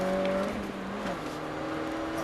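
A car accelerates at full throttle during track driving, a loud close engine drone whose pitch falls briefly as the load shifts, then holds steady, with no speech.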